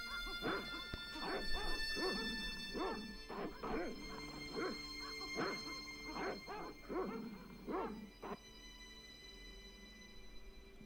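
Dogs bark in the video game Broken Sword: Shadow of the Templars, a run of sharp, mid-loud barks and yips in uneven bursts over a steady tonal background, fading out toward the end.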